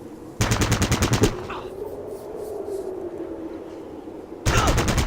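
Gunfire in the video game Fallout Tactics: two loud rapid bursts of automatic fire, one near the start and one at the end, with a quieter rumbling lull between them.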